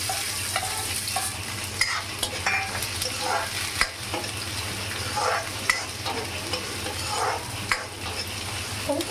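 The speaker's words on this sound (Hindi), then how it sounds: "प्याज थोड़ा से भुंजाने वाला है" Chillies and onions fry in hot oil with a constant soft sizzle, punctuated by irregular scraping and clacking of a stirring spoon against the pan, close and moderately quiet.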